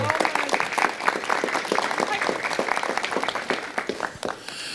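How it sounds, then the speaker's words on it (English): Dense, steady applause from an audience at a Las Vegas city council ceremonial meeting, many hands clapping together at close range for several seconds before easing slightly at the end. "Give him a nice round of applause."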